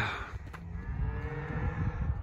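Cattle on a farm at night, with cows loose among calves, let out a long, low, drawn-out moo at middling distance over a steady background rumble.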